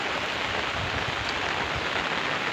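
Heavy monsoon rain drums on an umbrella held over Konkan farm fields, a dense, loud and unbroken hiss with no pauses.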